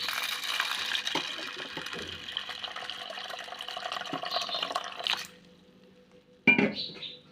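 Water poured from a vessel onto washed cowpeas in a pot for a curry, a steady close splashing gush for about five seconds, then quiet, followed by a brief sharp clank of metal.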